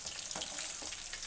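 Masala-coated paneer 65 frying in hot oil, a steady close hiss of sizzling with soft bubbling crackles throughout, no voices.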